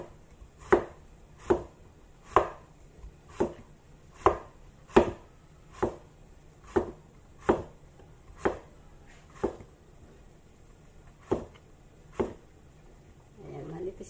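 A knife slices thin pieces of chayote on a board, making about a dozen crisp, evenly spaced chops up close, with a short pause before the last few strokes and a faint voice near the end.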